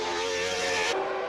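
Formula 1 cars from the 1997 season, a Benetton Renault and a McLaren Mercedes, roar loudly and steadily as they enter the pit lane. The engine tone shifts sharply near the end as one car passes.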